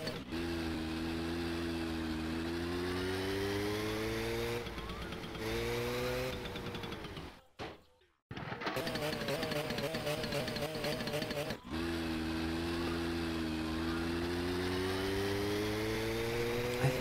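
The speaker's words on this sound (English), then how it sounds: "driving the moped while intoxicated is no easy task, especially considering you have to manually switch gears" Moped engine in My Summer Car revving and droning steadily with harmonic whine, shifting pitch as gears change, a brief cut-out near the middle, then resuming the loud continuous buzz.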